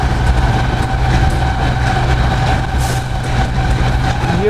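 Pak Business Express train hauled by a locomotive running at around 105 km/h on a straight track, a steady loud rumble of wheels and engine with droning tones throughout, no voices.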